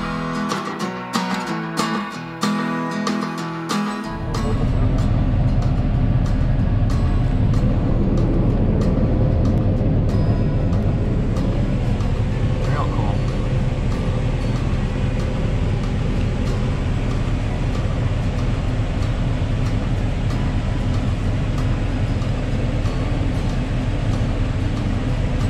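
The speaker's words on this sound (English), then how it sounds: "We're gonna go out and show them how to run the tractor and" Kubota M7-171 tractor rototilling a potato field, a loud steady diesel engine drone with churning tiller noise that starts abruptly after a few seconds and continues without a break.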